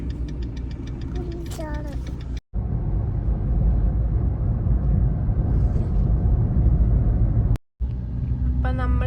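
A car engine labours steadily as the vehicle climbs the Thamarassery mountain pass road, a continuous low rumble with a voice heard briefly at the start and a short cutout in the middle.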